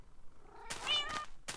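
Short cat meows from the Minecraft video game, a couple of distinct calls with a pause between them, clear and close over a quiet background.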